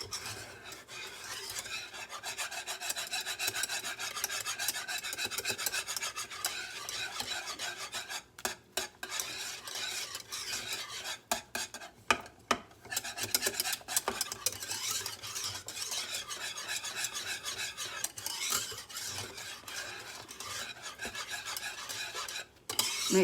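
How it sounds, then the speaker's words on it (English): Spoon scraping and stirring thickening homemade banana pudding in a pan, a steady continuous rasping and rubbing that runs without a break, close up and fairly loud, with only brief pauses. "So I've been stirring about 8 minutes."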